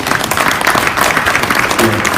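Audience applause closing a panel discussion at a food-science forum, many hands clapping steadily and loudly throughout, with a faint voice near the end.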